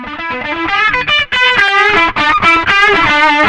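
Guitar processed through the RackAFX7 plugin's Class B crunch distortion with reverb, playing a loud, continuous, harmonically rich distorted line with steady note changes and no talking.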